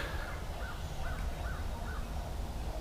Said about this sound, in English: Sun's a rising. The birds are chirping.